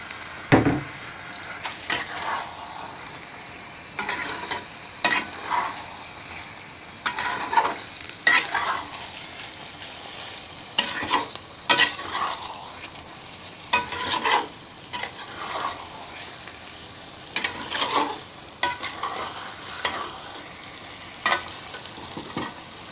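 Eggs frying in a pan while being stirred, with a steady sizzle under repeated scraping strokes of a utensil, close and fairly loud, coming in a regular rhythm.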